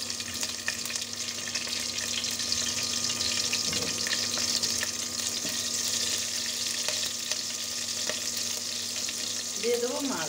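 Chopped green chillies sizzle steadily in hot oil in a pan, with a dense, continuous frying hiss and occasional stirring clatter. The sound stays close and carries on without letting up.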